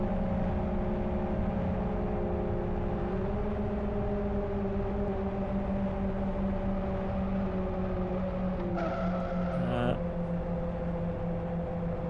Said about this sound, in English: You can certainly hear there's another engine there.